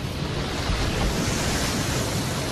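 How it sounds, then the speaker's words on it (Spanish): Fast-flowing water of the Mara River, a dense, steady rushing roar that fills the whole stretch without pause, loud and close, with no voices. "El río fluye regularmente y deprisa."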